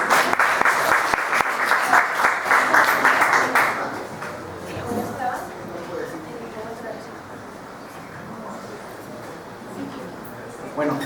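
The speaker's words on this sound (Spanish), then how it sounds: "a quien lo recibimos con un fuerte aplauso" An audience at a presentation event breaks into loud, sustained clapping that fades after a few seconds into quieter room murmur and a voice.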